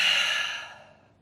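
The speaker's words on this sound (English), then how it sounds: "Exhale out of your mouth." A single breathy exhale out of the mouth during an intermediate power yoga flow, close and fairly loud at first, then fading smoothly over about a second.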